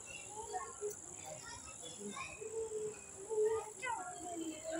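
Small insects, likely crickets, chirp at night with a steady high-pitched trill and scattered faint calls, heard outdoors at moderate distance.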